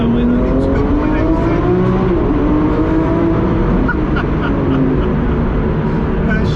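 A Lamborghini Aventador SVJ's V12 roars loudly in a tunnel, a sustained booming engine note with rising and falling pitch and echoing reverberation, continuous throughout.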